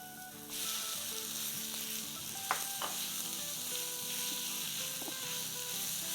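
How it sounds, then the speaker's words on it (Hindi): Half a pound of minced keema with green chilli fries in a pan, giving a dense, even sizzle with a couple of brief spatula scrapes and knocks midway, steady and close. "बस हमें इसको जब तक ही फ्राई करना है, जब तक कि इसका कलर चेंज ना हो जाए, ब्राउन ना हो जाए"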